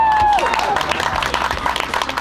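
Applause from a crowd fills the room, dense and continuous, with voices and cheers mixed in.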